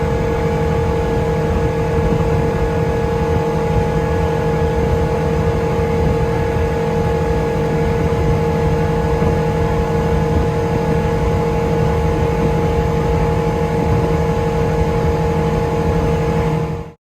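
A boat engine cruising on a lake gives a steady, loud droning hum with constant pitch, running unbroken for the whole stretch before cutting off abruptly at the end.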